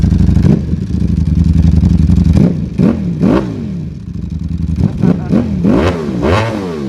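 A Ducati V4 SP motorcycle fitted with a Termignoni titanium exhaust idles loudly, then gets several sharp rising revs with quick drops, close and dominant, with no talk over it.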